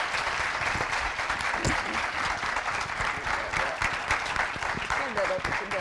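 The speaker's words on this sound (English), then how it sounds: "Give these amazing guys a huge round of applause." An audience at a real estate mastermind event applauds in a steady round of clapping, moderately close, with scattered cheers and voices woven through.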